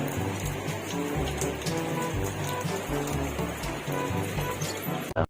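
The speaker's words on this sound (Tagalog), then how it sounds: "Maulan po mga kapatid." Steady rain pattering on surfaces with scattered drips and light clinks, continuous throughout, with a brief bump near the end.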